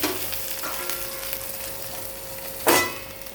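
Okra for masala bhendi sizzles steadily as it fries in a pan, with a sharp clatter like a lid being set down near the end and no talking.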